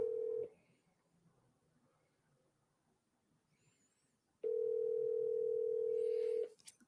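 A telephone dial tone plays steadily, cuts off as a number is dialed, then a long steady tone sounds again near the end; no voices.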